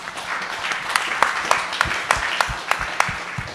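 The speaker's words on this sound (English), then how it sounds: "What you just said deserves applause again." An audience at a net-zero climate talk claps in a broad wash of applause, with a few sharper individual claps standing out near the microphone.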